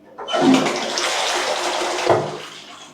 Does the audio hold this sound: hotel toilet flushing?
yes